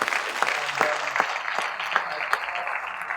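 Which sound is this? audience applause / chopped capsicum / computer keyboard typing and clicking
audience applause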